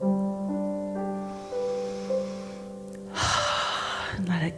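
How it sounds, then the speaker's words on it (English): During a guided meditation in a church service, a voice talks softly, then one long deep breath in rushes audibly through the airway near the microphone, followed by a brief further sound. "Take a deep breath in."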